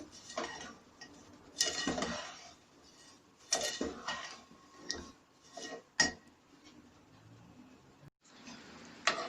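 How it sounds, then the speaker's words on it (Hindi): Spoon scraping and clinking against a pan while raw mango chutney is mixed with black pepper, red chilli and salt, in irregular bursts of clatter with short pauses, fairly close and moderately loud. "इन चीज़ों को डालकर आप अच्छे से मिक्स कर लें।"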